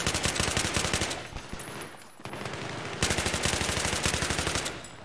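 An M249 machine gun in the video game Battlefield 3 fires long, rapid automatic bursts, loud and close, briefly pausing mid-way before the steady rattling stream resumes.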